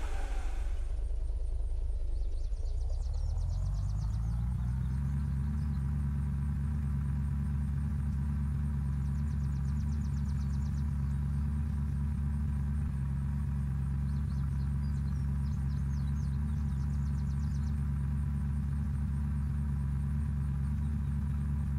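A car engine in the video game Unturned runs steadily at idle after a brief rev at the start, a loud, continuous low rumble with no talk over it.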